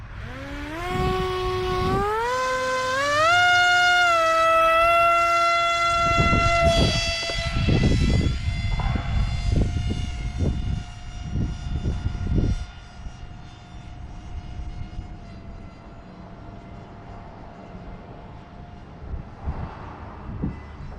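A Talon 250 drone with a 2100 kV motor and 5-inch prop taking off and flying, a loud whining buzz that climbs steeply in pitch over the first seconds, holds, then fades with the motor noise dropping off toward the end.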